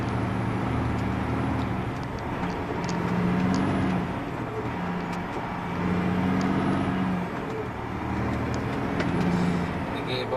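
A truck pulling a trailer labors slowly up a hill, a close, heavy engine drone that swells and eases in slow waves, with someone talking over it throughout.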